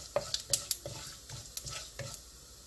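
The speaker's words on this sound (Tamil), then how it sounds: "இப்போ கடுகு சீரகம் உளுத்தம்பயிரெலாம் நல்லா புரிஞ்சிடுது" Mustard seeds, cumin and urad dal spluttering in hot oil, a faint bed of sizzle broken by a quick series of sharp crackling pops and stirring clicks.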